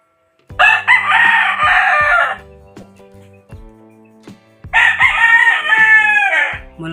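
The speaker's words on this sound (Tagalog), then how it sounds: "Malaking manok din ito." A young rooster about three months old crows loudly and close by, two long strained calls separated by a pause filled with low rhythmic tapping and faint background noise.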